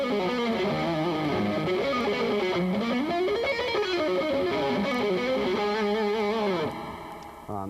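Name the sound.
rock electric guitar phrase with passing tones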